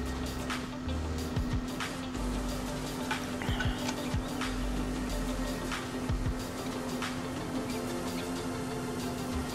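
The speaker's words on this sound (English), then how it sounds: "I think this is a stock pump sounds, honestly." A stock slurry pump in the Farming Simulator 17 video game, running as a steady mechanical drone with a constant tonal hum and faint ticking knocks throughout, no voices.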